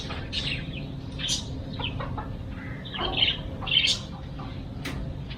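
Pet chickens kept alongside rabbits cluck and call in short bursts, a few louder squawks rising over a steady background hum, close by with no talking.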